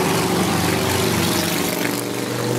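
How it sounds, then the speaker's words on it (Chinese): A big motorbike roars past on a Stockholm street, a loud, steady engine drone that stays strong for the whole stretch with a slight dip near the end, with no talking. "这个大摩托开得好快哦"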